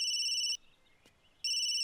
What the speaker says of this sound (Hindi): अरे सोनिया की जहां शादी कैंसिल हुई थी वहीं से फोन आ रहा है।